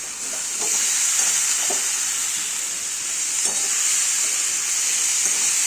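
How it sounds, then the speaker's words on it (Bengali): Potatoes and spices fry in a pan for a vegetarian aloo dum, giving a steady, loud, bright hiss broken by soft scraping stirs, close and unbroken from start to finish. "দু তিন মিনিট ধরে মশলা আর আলু একসাথে আমি কষিয়ে নিয়েছি"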